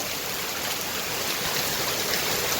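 Heavy, steady rain pours down continuously, a dense broadband hiss that stays loud and even throughout, with no voices.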